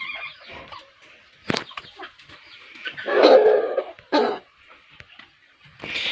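Chickens, hens and a Rhode Island Red rooster cluck and squawk in short scattered bursts at close range, with a louder flurry of calls near the middle and quiet gaps between.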